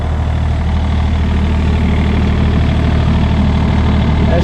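A Kobelco SK-35-SR closed-cab mini excavator idles close by, its diesel engine holding a loud, steady low rumble without change throughout, no talking over it.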